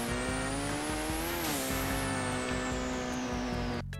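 A $22 million video-game supercar in Car Dealership Tycoon roars at high, steady revs with a loud whining engine note that rises briefly and then holds until it cuts off abruptly at the end.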